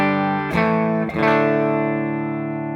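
A Nash T57 electric guitar through a Morgan RCA 35 amp: two strummed chords ring out close and loud, the second sustaining and slowly fading.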